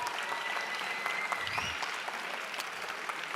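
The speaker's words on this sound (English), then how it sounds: "So let's just give a round of applause for our sponsors," Applause from a conference audience at an entrepreneurship event, greeting the sponsors; steady, moderately distant clapping fills the whole stretch with a brief low rumble in the middle.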